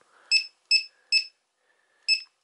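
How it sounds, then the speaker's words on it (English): A battery cell monitor on an 18V battery setup gives four sharp electronic beeps, three in quick succession then a pause before the last, loud and close with quiet between them. "This is going to beep."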